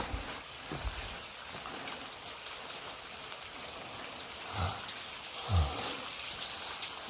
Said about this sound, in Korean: 폭포가 하나 있습니다